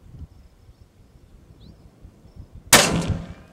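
A single loud rifle shot fired at a jackrabbit about 160 yards away cracks sharply and rolls off in a decaying echo, after quiet outdoor ambience with faint insects.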